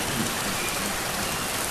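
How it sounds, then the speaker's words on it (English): Steady, dense rain falls without pause, a loud close hiss of drops striking surfaces that holds an even level throughout, with no talking. "That rain you hear falling from the sky"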